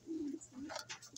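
A pigeon coos softly nearby, two low throaty coos followed by faint rustling and a few higher chirpy sounds.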